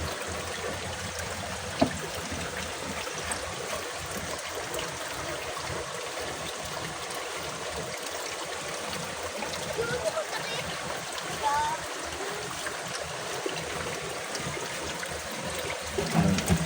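A clear stream flows at a drinking-water source fed from uphill, where there are no houses yet. Its rushing wash is steady and continuous throughout, and a voice talks over it.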